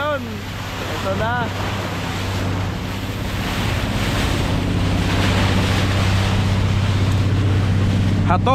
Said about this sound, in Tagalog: Ayan na mga alon.